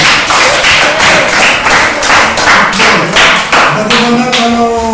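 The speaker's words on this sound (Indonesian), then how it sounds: "Tepuk tangan untuk" Steady group clapping from a class nearby during a teaching-practice lesson, a dense rhythmic patter lasting throughout, with a voice briefly starting to speak near the end.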